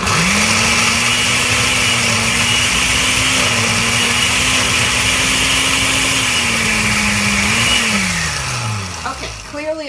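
A kitchen blender whirring loudly while blending chickpeas into hummus, a steady motor drone that holds pitch, then winds down and slows near the end as the blades coast to a stop.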